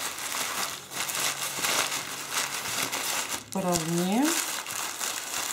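Sheets of paper crinkled and pressed by hand to shape the base of a New Year floral wreath, a continuous close rustling and crumpling while someone speaks briefly.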